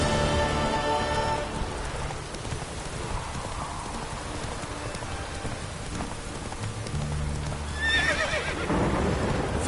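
Roach, a horse in the video game Witcher 3, gallops with steady clip-clop hoofbeats over a constant rain-like hiss, and near the end lets out a loud whinny.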